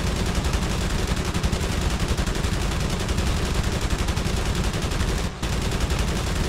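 Continuous rapid machine gun fire from fighter planes in the aerial combat game Wings of Prey, loud and dense throughout with a brief dropout near the end, no speech over it.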